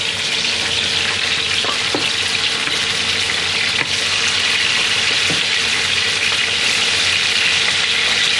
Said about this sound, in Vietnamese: Các bạn sẽ rán vàng.